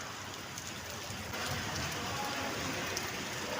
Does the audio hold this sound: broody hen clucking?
no